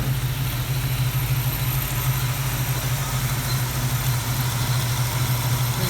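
A Plymouth Duster's engine idles at about 800 RPM: a steady, loud, low rumble that holds evenly throughout with no voices.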